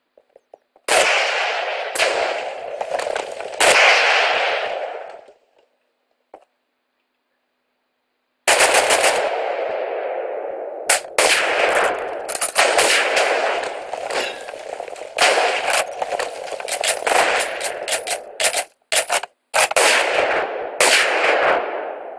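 Video game gunfire in long rapid bursts of shots, loud and close, with a few seconds of silence between volleys and clipped single shots near the end.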